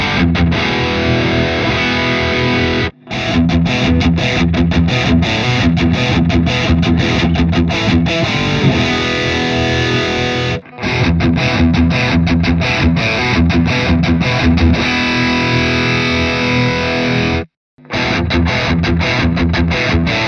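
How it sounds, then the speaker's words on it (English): High-gain distorted electric guitar played through a Badlander amp into closed-back cabinets, thick driven chugging riffs and sustained chords loud and continuous, broken by three brief silent gaps. "a high gain sound that we're going to be looking at the closed back cabinets"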